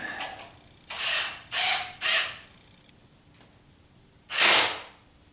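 Ratchet wrench tightening Pypes exhaust parts on a 1976 Corvette: three quick clicking bursts in a row, a pause, then one louder burst, close and otherwise quiet.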